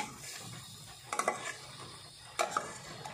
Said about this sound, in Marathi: फक्त असं परतून घ्यायचं.